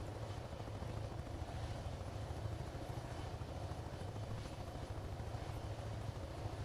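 A helicopter in the game Take On Helicopters passes overhead, a steady low rotor thrum and engine whine that holds constant and fairly close throughout, with no talk.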